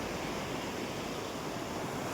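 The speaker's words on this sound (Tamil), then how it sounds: "கல்லணையில் எவ்வாறு தண்ணீர் வந்து இந்த இடத்துல எவ்வாறு பாயுது" River water released from the Kallanai dam gushes past in a dense, steady roar, loud and continuous with no pauses or voices.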